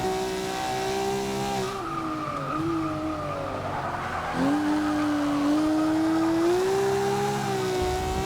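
A Ferrari 250 California racecar in Forza 6 sweeps through a final turn in a Class C multiplayer race, its engine holding a steady loud tone with pitch dips and climbs and tire squeal as it corners.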